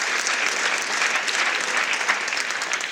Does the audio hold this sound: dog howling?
no